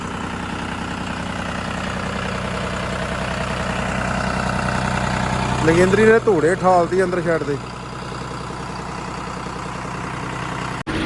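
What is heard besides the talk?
tractor engine idling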